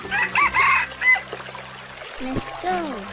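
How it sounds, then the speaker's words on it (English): A cartoon chicken clucks in a few quick bursts, then gives a short crow-like call near the end, loud and close with faint background noise between. "Chicken."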